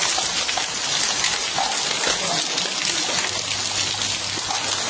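Rain falls in a steady, even wash of noise, close and fairly loud, with no pauses and no voices.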